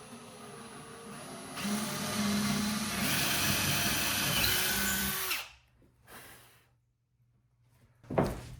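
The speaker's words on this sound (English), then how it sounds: "I have to drill a new hole onto the drawers" A power drill whirs steadily for several seconds with a rising pitch while drilling a hole in a wooden furniture drawer, then cuts out, followed by a few quieter knocks and a sharp clunk.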